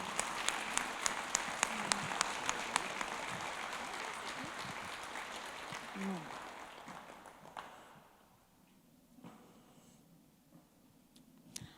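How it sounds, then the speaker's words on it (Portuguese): A congregation applauds during a Thursday church service, dense steady clapping that fills the room and then thins out to a few scattered claps near the end. "Uma salva de palmas para Jesus."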